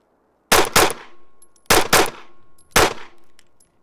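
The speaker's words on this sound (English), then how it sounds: "now we're gonna grab the Hellcat Pro Comp. I'm excited to shoot this gun" Three loud, sharp handgun shots from a Hellcat Pro Comp pistol fired at a range, each crack followed by a short ringing decay, spaced roughly a second apart.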